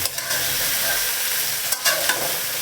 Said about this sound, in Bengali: তেল দিয়ে দিয়েছি, পেঁয়াজগুলো দিয়ে দিলাম, ফুলকপিগুলো আমি দিয়ে দিলাম।